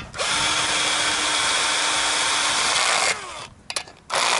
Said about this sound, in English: to screw this couple of bolts.